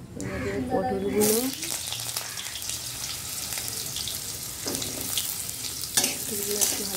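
Pieces of pointed gourd drop into hot oil with whole cumin and bay leaf, setting off a sudden loud sizzle after a brief voice, then a steady crackling fry with occasional stirring clatter.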